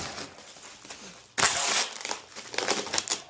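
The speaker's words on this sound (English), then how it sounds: "Get some tape. Fold it over." Packing tape pulled and folded over while wrapping used car parts for shipping, a sudden loud crinkling crunch followed by several shorter rustles, close and with no talking.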